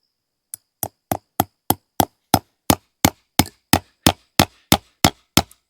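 A hammer drives a staple into wood for an H brace fence, about seventeen sharp, evenly spaced taps in quick succession, loud and close with no speech.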